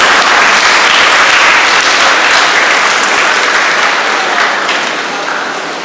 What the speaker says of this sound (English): I request everyone to give a big round of applause.